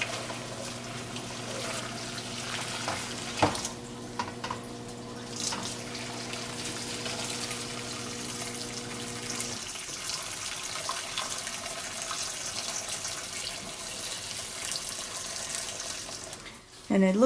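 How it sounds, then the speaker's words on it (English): Warm homemade broth strained through a colander into a pan, giving a steady running, splashing pour of liquid that carries on throughout at moderate loudness, with a brief clatter near the end. "this is the easy peasy way to strain your broth off."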